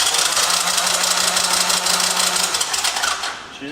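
An abandoned three-wheeler ATV's engine is cranked over by the starter, a loud, fast rhythmic chatter and whir that carries on steadily and then winds down at the end without catching.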